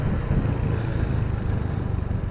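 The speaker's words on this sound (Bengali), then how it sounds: "আপনারা আসলে ভিডিওতে শুনতে পাচ্ছেন কিনা জানি না," A Royal Enfield Hunter 350 motorcycle exhaust while riding at night on a rough road, a steady low engine rumble heard up close without a break.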